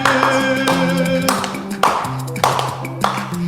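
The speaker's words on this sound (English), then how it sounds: "So you're singing deja vu, but you're clapping at the same time." Workshop participants at a Barefoot Opera singing and dancing session clap together while singing a sustained melodic line, with a handful of sharp, evenly spaced claps cutting through the voices.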